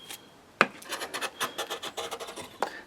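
A hand gouge carves and refines an end-grain wooden bowl in a series of close, crisp scraping strokes, about a dozen in quick irregular rhythm, with a few sharper cuts standing out.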